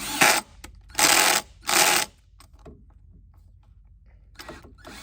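A mounting screw for a Lowrance 3-in-1 transducer being driven in, heard as three loud whirring bursts of a powered driver followed by quiet fiddling and another brief burst.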